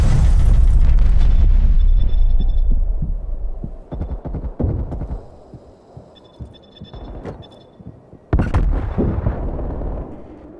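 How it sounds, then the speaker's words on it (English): Artillery barrage in Call of Duty: Black Ops Cold War: a loud rumbling blast at the start, then scattered heavy thuds and impacts with a second sharp explosion near the end, close and booming. "Artillery inbound"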